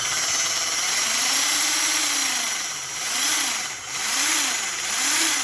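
A high-torque electric motor with strong magnets spinning on a dyno, a steady whirring hum that dips and rises in repeated gentle revs.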